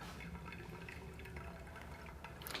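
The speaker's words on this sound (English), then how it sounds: "It's going to be a direct pour in the center." Hot water pours directly into the center of coffee grounds in a V60 pour-over dripper, a faint, steady trickling and gurgling with small drips, quiet and continuous.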